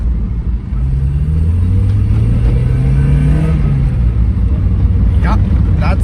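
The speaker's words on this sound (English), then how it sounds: "that's 4 cylinders running there" A Mazda Miata four-cylinder, freshly fitted with spark plugs, wires and a fuel filter and suspected of an injector misfire, idles with a close, loud low rumble, then revs up and settles back to a steady run.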